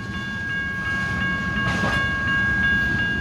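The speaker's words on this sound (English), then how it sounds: "I think that's the Amtrak." Amtrak train rolling past the N St railroad crossing in Bakersfield, California, a loud, close, steady rumble of rail cars with the crossing bells ringing continuously over it.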